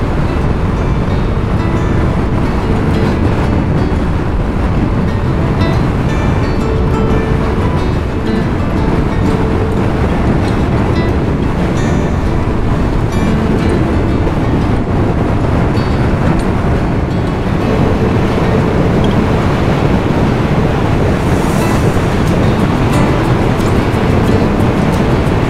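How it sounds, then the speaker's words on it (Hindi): Strong wind roars steadily and loudly across the whole stretch while riding a motorcycle on a road in Hingol National Park, Pakistan, a constant buffeting rush with engine rumble beneath and no talk. "बहुत तेज़ हवा है।"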